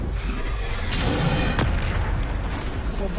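Bombarda spell blasts in the Hogwarts Legacy video game: a dense, continuous roar of booming explosions with a sharp burst near the middle and another toward the end, loud and close.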